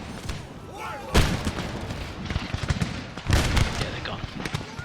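Musket volleys crack in the Empire Total War video game, two big bursts of massed fire about two seconds apart over a rumble of battle, with someone talking underneath.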